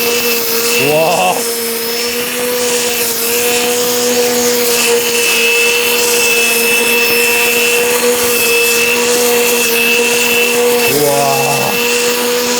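A cordless brush cutter runs with a steady, even motor whine that holds throughout, fairly loud and close, with a short burst of voice at the start and again near the end.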